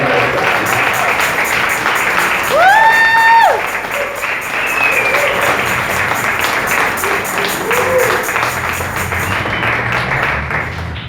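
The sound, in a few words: audience applause welcoming the pastor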